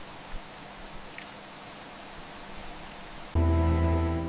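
Rain falling on a village street in Grindelwald, Switzerland, a steady soft patter of drops close by, joined near the end by a louder, steady tonal hum that rises over the rain.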